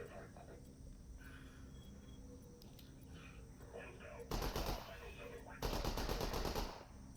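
Bursts of automatic gunfire from the VR shooter game BattleGroup VR2, two loud sustained volleys in the second half rising over a steady background bed.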